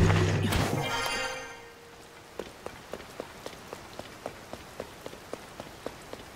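Rain patters steadily in the wetlands of Zelda: Tears of the Kingdom, with an opening burst of game effects giving way to evenly spaced drip sounds over a soft rainfall hiss.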